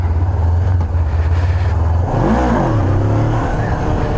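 A Honda CB500F motorcycle engine revs hard in second gear on a closed private lot, a loud steady drone that briefly dips then climbs again in pitch, close and continuous.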